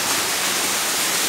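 Waterfall inside a cave in Ilicínea, southern Minas Gerais, a steady loud roar of falling water filling the space without a break.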